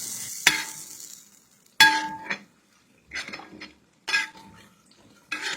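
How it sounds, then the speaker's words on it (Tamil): Cooked mutton being stirred into tomato masala in a pot: several separate bursts of metal spoon scraping and clinking against the vessel, each followed by a short soft sizzle, with quiet gaps between. "5 நிமிஷத்துக்கு அப்புறமா தட்டை திறந்து ஒரு மிக்ஸ் கொடுத்து வேக வச்ச மட்டனை சேர்த்துக்கோங்க"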